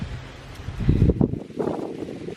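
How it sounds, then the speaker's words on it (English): Gusty wind buffets the microphone outdoors in a garden allotment, rising in low rumbling bursts with a leafy rustle in the background. "it's getting near the equinox now, so it's getting a bit windy"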